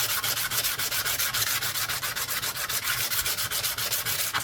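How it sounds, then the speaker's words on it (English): Very fine sandpaper rubs back and forth along the edge of a German 1 Mark coin, a steady rapid scratching with close, even strokes throughout and no talk. "This is very, very fine sandpaper."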